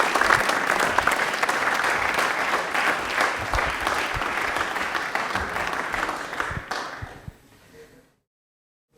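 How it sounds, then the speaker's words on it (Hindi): A studio audience at a televised Rajasthan quiz show breaks into dense, loud applause for a contestant, holding steady for several seconds before quickly dying away into silence. "तालियां एक बार जोरदार हो जाए सुमंत के लिए"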